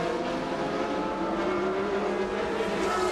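Sportscar racing engines in an FIA Sportscar Championship race at Magny-Cours, a steady loud drone with a rising pitch as cars work through the hairpin, continuous and without pause.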